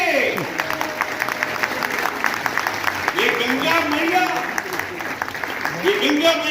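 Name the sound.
audience applauding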